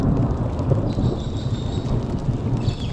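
Heavy rain pours down beside the Murray River with a deep, continuous rumble of thunder underneath, close and loud, with faint bird calls above.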